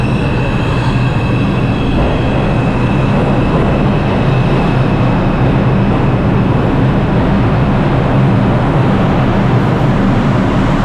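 A New York City subway train rumbles loud and close on the platform, a steady roar of wheels and rail noise lasting about eleven seconds without any voices.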